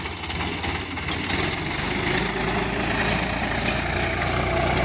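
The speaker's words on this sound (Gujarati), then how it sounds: "તમે જોઈ શકો છો ભાઈ પ્લાવ મારી રહ્યા છીએ" An Indofarm tractor drags a Khodiyar plough through a field, its engine droning loud and steady throughout with a constant low rumble and rattling vibration, no speech over it.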